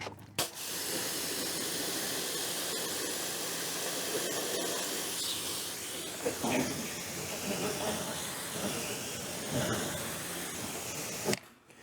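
Tire cleaner sprays onto car wheels in a steady close hiss that runs nearly nonstop, with a few short bursts and pauses near the end.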